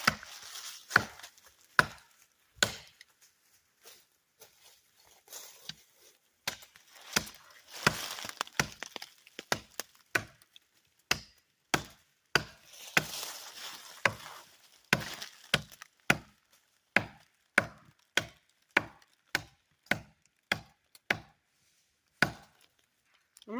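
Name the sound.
Ibuki axe chopping hemlock wood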